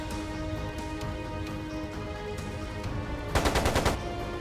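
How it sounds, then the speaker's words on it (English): Machine-gun fire in the video game Trails of Cold Steel II: a short rattling burst of rapid shots near the end, following several seconds of steady game ambience and music with isolated sharp hits. "It sounded like a machine gun."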